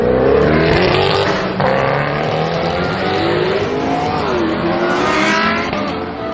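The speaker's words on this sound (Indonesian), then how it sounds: "Benar teman-teman, ini mobil balap." A race car sound effect roars loud and close, with the engine revving and sweeping in pitch and tires squealing, filling the whole stretch without a break.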